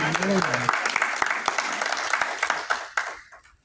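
A church congregation applauds in a loud, dense burst of clapping, a voice briefly heard at the start, before the sound tapers off near the end.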